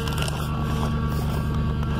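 A 2001 Ford F-150 idles after a cold start in freezing Montana weather, its power steering pump letting out a steady, continuous whine over the low engine rumble, close and unbroken for the whole moment.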